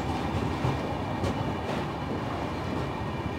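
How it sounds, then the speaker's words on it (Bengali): The Dibrugarh–New Delhi Rajdhani Express pulls out of the station, a steady rumble of rolling coaches with faint clickety-clack and occasional squeals, heard from inside the train without speech. "সবুজ সংকেত পেয়ে ছেড়ে দিল আমাদের রেলগাড়ি"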